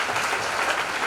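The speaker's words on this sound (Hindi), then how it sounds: "हम लोग इन्हें जोरदार तालियों से इनका स्वागत किया जाए।" Brief burst of applause from an audience at a Hindi Diwas government event, welcoming a speaker: a short, even patter of many hands clapping, moderately loud and without speech.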